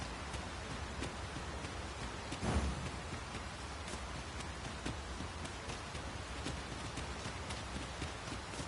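Steady rain falling in the game Dragon's Dogma 2, a soft continuous patter with scattered drops and a brief low rumble, faint and uninterrupted.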